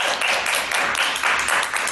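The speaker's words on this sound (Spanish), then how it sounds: "Un aplauso, por favor, compañero quinto básico" Steady classroom applause for a fifth-grade classmate at a school debate class, many small hands clapping briskly and close together for a couple of seconds.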